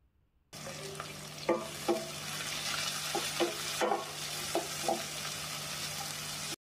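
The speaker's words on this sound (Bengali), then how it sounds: "ব্রাউন কালার হয়ে গেলে পেঁয়াজ আর মরিচ পরিমাণ মতো দিয়া আরও 2 মিনিট ভাজি লিমু।" Chopped garlic with onion and chili frying in a pan, a steady sizzle broken by repeated scraping clicks of a spatula stirring, close and fairly loud with no voices.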